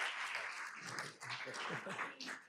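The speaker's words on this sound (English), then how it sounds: "Let's give Gabe a nice round of applause." Applause at a school board meeting, a modest crowd clapping fairly quietly and somewhat distantly, with murmured voices mixed in beneath the clapping.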